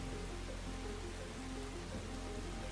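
Heavy pouring rain falls on a bridge as a dense, steady hiss of countless drops, even and unbroken, with a low rumbling undertone and no voices.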